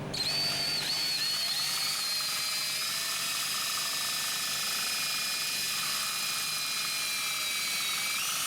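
A number 21 drill bit boring into metal on a 1959 Chevrolet Biscayne disc brake conversion, a loud continuous high-pitched whine held steady for the whole stretch, with a slight pitch sag partway through.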